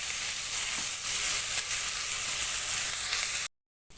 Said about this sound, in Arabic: هنشوح الرز كده لغايه ما يتغلب بقى بالسمنه وبالتوابل الجميله بتاعتنا